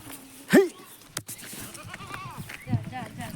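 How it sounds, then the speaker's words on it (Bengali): A village goat being untied gives one loud, close bleat early on, followed by fainter animal sounds with people talking nearby. "ছাগল খুলে দিয়েছে"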